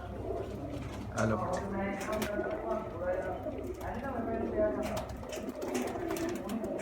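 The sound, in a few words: Sialkoti-Lahori mix pigeons cooing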